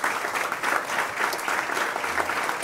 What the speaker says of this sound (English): I think our three wonderful panelists deserve a big round of applause from the audience.